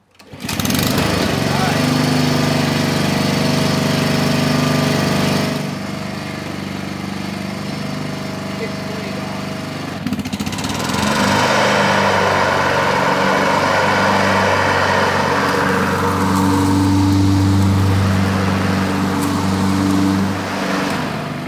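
A Honda push lawn mower engine runs at full throttle, a loud, steady, close drone that holds throughout with a brief dip in tone midway.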